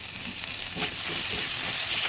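Onions, ginger paste and spices sizzle steadily in hot oil, a continuous broadband frying hiss with faint stirring scrapes, close and moderately loud throughout.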